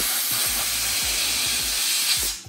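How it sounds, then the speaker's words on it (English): Compressed air blasting sand and grit from a car panel before wrapping: a loud, steady hiss that runs without a break, with faint rhythmic thumps beneath, then cuts off at the end. "If you have compressed air, this can also be very handy to get rid of any"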